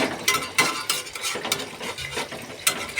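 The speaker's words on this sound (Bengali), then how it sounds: "দেখুন এর মধ্যে এবার আমি মাছগুলো দিয়ে দেবো" Fish being added to potatoes frying in a pan, with close scraping and clattering stirring bursts in an uneven rhythm over a soft background sizzle.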